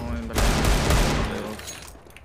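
Gunfire from a Desert Eagle pistol in Counter-Strike: a dense burst of loud shots packed together, then a quick fade, with an excited voice shouting over it.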